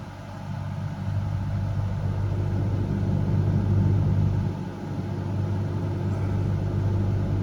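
A Ford Fusion with a 6-cylinder engine idles while warming up. It makes a steady, low, close rumble that holds even throughout, with no voices.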